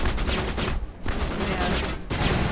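Rapid gunfire rattles in the Mass Effect video game, dense bursts of shots close and loud with two short pauses.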